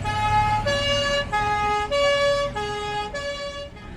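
An old police vehicle's two-tone siren wails loudly and close in steady alternating high and low notes, with the rumble of vehicles underneath, at an event in Lapalisse in 2024.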